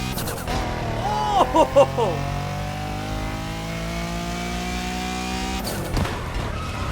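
A Lamborghini Countach engine in a racing video game revs hard and climbs through gears, with rising and falling pitch sweeps, a couple of sharp bursts, then a steady high drone.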